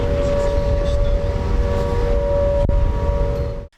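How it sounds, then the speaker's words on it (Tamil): An air raid warning siren in Kyiv, Ukraine, holds a steady, sustained wail over a rumbling background before cutting off abruptly near the end. "யுக்ரைன் தலைநகர் கீவில் வான்வழி தாக்குதல் எச்சரிக்கையாக சைரன் ஒலித்துக் கொண்டிருந்தது"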